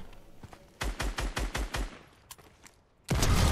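Gunfire in the Fortnite video game: a quick burst of about six loud shots in a rhythmic string, a couple of fainter shots before it, and a heavy blast at the end, with no talking.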